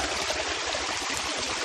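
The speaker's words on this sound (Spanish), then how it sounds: "Acá repondremos agua y esto va corriendo todo para allá" Mountain spring water flowing downhill, a dense, steady rushing gush close by with no pauses.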